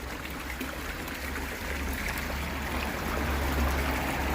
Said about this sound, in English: there's more water going into that one than there is that one